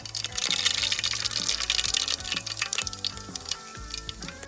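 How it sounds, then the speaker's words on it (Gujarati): Mustard seeds and cumin dropped into hot oil for a vaseti bhaji, crackling and sizzling close up with dense popping that eases slightly over a few seconds and no talk. "ત્યારબાદ આપણે રાઈ જીરું નાખીશું।"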